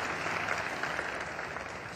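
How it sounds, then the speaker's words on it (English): A room applauds Judith Kaye at a 2008 Law Day celebration, steady dense clapping from many hands, evenly sustained throughout the short stretch with no voices breaking through. "in giving Judith Kay the round of applause she deserves"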